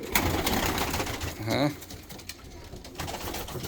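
Pigeons cooing inside a coop, a near, steady burble of calls with one clear rolling coo in the middle over a busy background of bird sounds.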